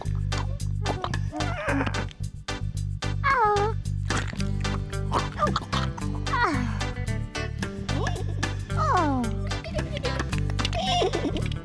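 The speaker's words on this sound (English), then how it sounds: "Ah, it's a kitten." A cartoon kitten on a farm gives a string of high, rising meows over bright background music, each short cry repeating every second or two for about twelve seconds.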